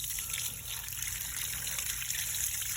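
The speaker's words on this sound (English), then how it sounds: "So now, Mr. Hands, we're going over to the water, and we're going to turn on the water." Tap water running steadily onto a pinball DMD controller circuit board being washed, a constant close hiss of flowing, splashing water with no talking.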